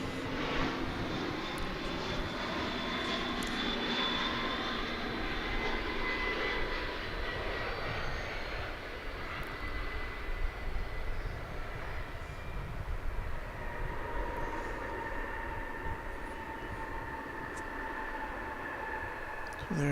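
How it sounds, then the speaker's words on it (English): A UPS Airbus A300 jet arrives at DFW airport, its engines a broad, steady roar that fills the whole stretch at middle distance, swelling and easing slightly as it passes. "here comes an Airbus A300 of the UPS variety. This one arriving from Houston."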